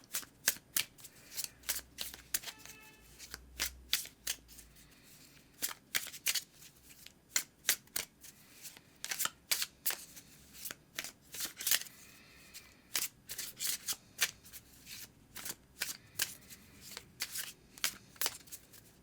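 An oracle card deck being shuffled by hand: a quiet, irregular run of crisp riffles, flicks and soft slaps that keeps going in uneven bursts, close up, with no speech over it.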